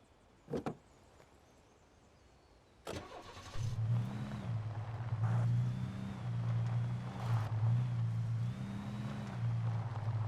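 Car in the video game Alan Wake Remastered starts with a cranking burst after a couple of door clunks, then settles into a steady, close idle with slight revving undulations.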